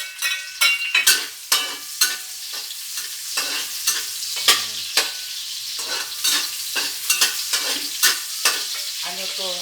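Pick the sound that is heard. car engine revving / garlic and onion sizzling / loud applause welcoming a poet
garlic and onion sizzling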